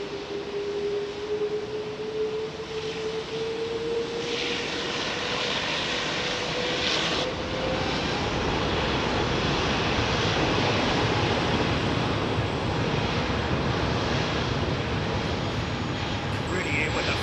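Singapore Airlines A380 jet engines spooling up, a loud steady roar with a rising whine that swells and holds near the aircraft, people talking faintly over it.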